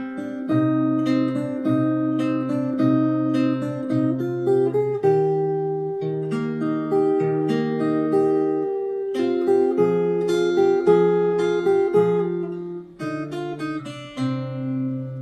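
Fingerstyle acoustic guitar plays a flowing melodic passage with plucked bass notes and chords, steady and close, with no voices.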